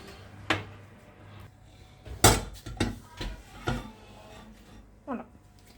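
A tart pan for an apricot amandine tart is taken out of the oven, with a handful of sharp metallic clanks and knocks from the pan and oven rack, plus a soft creak, close and moderately loud, with no talk.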